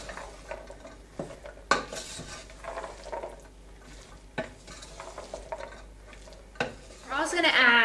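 Beans are stirred into a sizzling pot of tortilla soup, a spoon scraping and clinking against the pan in irregular strokes, with soft frying underneath and brief speech.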